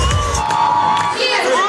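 A crowd of Iranians celebrates in the streets of Germany with loud, close shouting and cheering in one short burst, voices overlapping.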